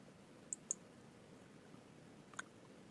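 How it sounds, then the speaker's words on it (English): Faint isolated computer mouse clicks in a quiet room while opening a result in a library database: two quick clicks, a pause, then another sharp click near the end, all close and without speech. "Let me click on this title."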